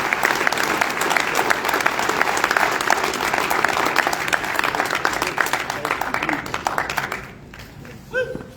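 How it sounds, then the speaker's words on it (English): Banquet audience at a sports association's 50th annual awards dinner gives a final inductee a loud, sustained round of applause with dense clapping, tapering off near the end as a few voices emerge. "Can we get one more large round of applause for our 2022?"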